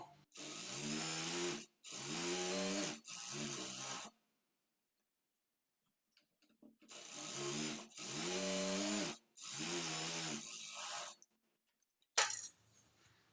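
A sewing machine stitches along the edge of blouse cloth in loud, even runs: three bursts, a pause, then three more, ending with a short clatter.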